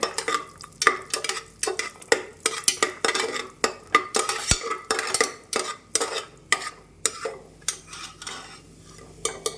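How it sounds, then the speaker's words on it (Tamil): Cashews frying in oil and butter in a pan, a rhythmic series of scraping stirs and metallic clinks over a light sizzle, close and fairly loud. "முந்திரி பருப்பை இந்த அளவுக்கு நல்லா கோல்டன் ப்ரௌன் வர அளவுக்கு இதில் நம்ம வறுத்து எடுத்துக்கலாம்"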